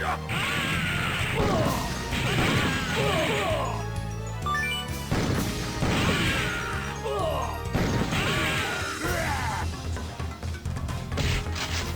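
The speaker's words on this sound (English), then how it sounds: "Rocket launcher." Rocket launcher shots and explosions in a PS2 video game, repeated booming blasts with crashes and mechanical clatter in a rough rhythm, fairly loud and without talk.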